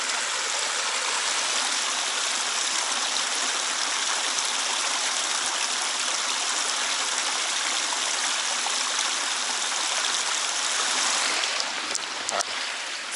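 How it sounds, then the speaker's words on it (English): A little waterfall on a stream along an Adirondacks trail near Spruce Lake rushes in a constant, full splashing roar close by, with a few faint knocks near the end. "Before I got interrupted by the little waterfall."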